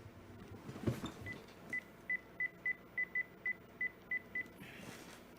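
Tones from a telephone keypad as a home phone number is dialed, about ten short evenly spaced beeps in a quick run, faint rustling before and after.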